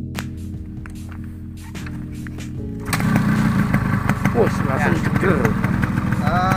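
Engine of a 2004 Yamaha RX King two-stroke motorcycle, kept stock, with a near, steady buzzy idle that thickens and grows louder partway through; faint talk is present at the start.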